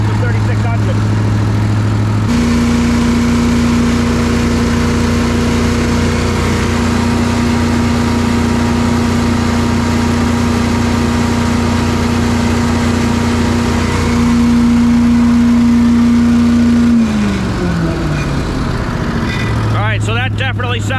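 A small engine running steadily with a constant hum, its pitch stepping up as the throttle is opened toward 3,600 RPM, then dropping and winding down near the end; loud and close throughout.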